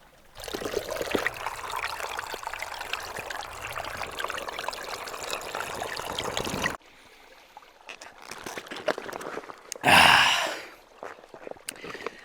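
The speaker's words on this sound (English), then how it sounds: "nice little stream, which is always a huge benefit while backpacking" A small stream trickles at a backpacking campsite, a close, steady, gurgling wash that breaks off partway through and is followed by quieter rustling and a brief loud burst, with no talk.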